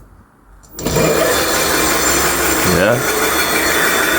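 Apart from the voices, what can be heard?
electric bike motor spinning by itself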